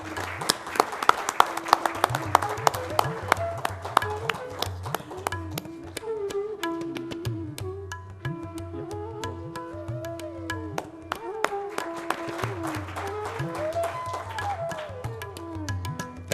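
An audience applauds at an innovation session award ceremony, with scattered claps over music; the clapping is denser at the start and swells again near the end.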